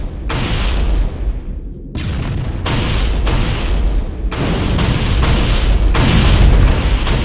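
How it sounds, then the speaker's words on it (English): Heavy booming explosions as Covenant forces blow up escaping life pods aboard the Pillar of Autumn in Halo, a rapid series of loud, close blasts with long rumbling tails, several overlapping in sequence. "The Covenant are destroying the life pods."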